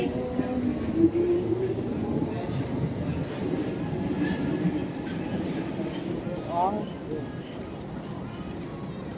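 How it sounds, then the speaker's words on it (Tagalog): A London Underground Metropolitan Line train rumbles steadily from inside the carriage, with wheel noise, faint squeals and occasional clicks over the ride. "This is a Metropolitan Line train to Aldgate."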